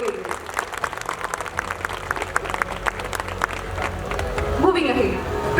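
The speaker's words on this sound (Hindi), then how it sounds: "एक बार जोरदार तालियां सभी बच्चों के लिए." A school annual day audience claps in scattered, sustained applause for the children, a crackly field of hands heard through a hall sound system while a voice speaks over it.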